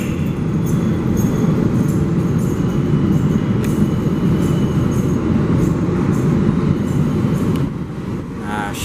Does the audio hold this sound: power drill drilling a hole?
no